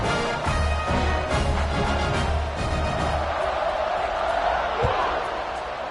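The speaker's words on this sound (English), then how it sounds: "They're set to kick it off, and this crowd now ready to get behind them." Football stadium crowd cheering before kickoff in a game between the Seminoles and Air Force, a broad loud roar of massed voices, steady throughout with scattered whoops.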